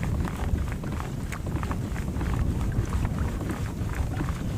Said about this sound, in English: This wind is messing with me big time